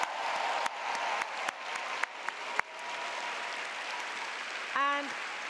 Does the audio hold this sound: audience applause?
yes